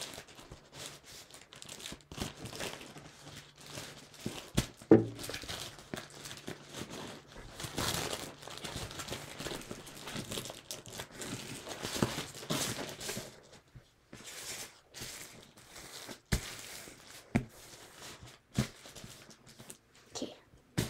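Paper folded and creased by hand for an origami porcupine, quick crinkling and rustling with sharp snaps and creases in close, uneven bursts.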